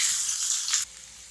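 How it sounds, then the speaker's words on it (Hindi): Ginger garlic paste sizzles in a pan as chopped tomatoes and green chilies go in, a bright hissing fry that bursts briefly and then drops away abruptly. "लहसुन अदरक फ्राई हो चुका है, इसके अंदर हम डाल देंगे चॉप टमाटर, हरी मिर्च"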